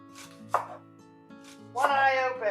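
A knife chopping a strong onion for chicken gyros, a few sharp separate cuts on a board followed by a quicker burst of chops at the end, close and clear, no talking.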